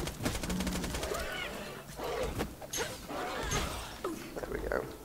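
Sniper rifle shots ring out in Borderlands 2 gameplay, several sharp bangs punctuating a busy mix of game effects while a player talks over them.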